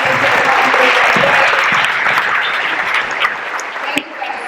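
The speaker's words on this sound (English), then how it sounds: "will you guys help me give them a round of applause?" Steady, dense applause from a large audience at a speech event, loud and sustained throughout, tapering slightly near the end.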